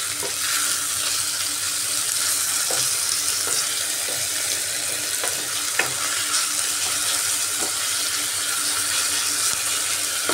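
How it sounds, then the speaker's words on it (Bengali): Tomato fries with salt in a pan for a chicken and bottle gourd curry, a dense, constant sizzling hiss heard close with faint occasional clicks of stirring throughout, no talk. "এবার এর মধ্যে সামান্য নুন দিয়ে টমেটোটাকে আমি ভালো করে নরম করে নিচ্ছি।"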